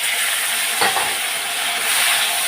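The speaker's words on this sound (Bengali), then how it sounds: "বেগুনগুলো একটু হালকা ভেজে নিয়ে তারপরে দিয়ে দেবো সর্ষে বাটাগুলো" Eggplant pieces fry in a pan, a steady bright sizzle with a brief stirring disturbance near the start, close and alone with no talk.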